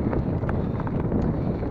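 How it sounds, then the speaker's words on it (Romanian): Wind gusting steadily across an outdoor microphone on a hot day, a continuous loud low rumble with broadband buffeting and no clear voices. "Bine că bate vântul."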